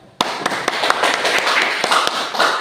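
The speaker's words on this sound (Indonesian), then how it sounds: "Kita berikan aplaus kepada kelompok 1." A small group of students claps in a classroom for a presenting group, sharp irregular claps starting abruptly and continuing steadily, close and fairly loud.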